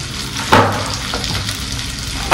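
Green chillies and onion fry in sesame oil with a steady, close sizzle, lifted by two brief louder bursts of spatter or stirring near the start and the end.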